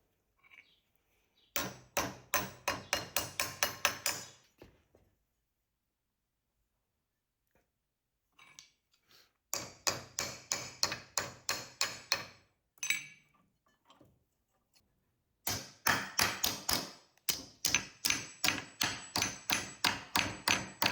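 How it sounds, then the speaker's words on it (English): Cut steel pieces are hammered into shape in a home shed workshop, with three long bursts of rapid, ringing metallic blows separated by quiet pauses, loud and close. "With each piece cut, I could then bend the pieces into shape."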